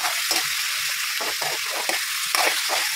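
Pork belly fat sizzles and crackles in a pan as it is stirred, a steady bright frying hiss broken by repeated scraping stirs.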